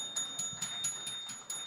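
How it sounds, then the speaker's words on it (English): Rapid series of bright metallic bell strikes on a sports talk show, about six evenly spaced hits ringing clearly with no talk over them. "He gets the bell again."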